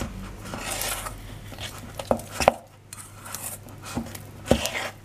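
Flour being mixed into cookie brownie batter in a bowl, a spoon or whisk scraping and clinking against the sides with a few sharp knocks among steady soft stirring, close up with no talk.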